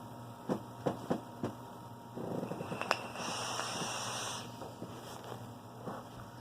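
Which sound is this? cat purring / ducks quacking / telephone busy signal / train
cat purring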